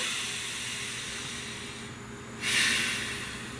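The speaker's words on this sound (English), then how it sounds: "Please take a nice deep breath." A single deep breath, a soft airy rush that swells near the end over faint background hiss.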